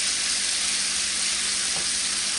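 Lobster and shrimp hit a hot pan for a seafood bisque, producing a loud, close, unbroken hiss of frying that holds steady throughout with no voices.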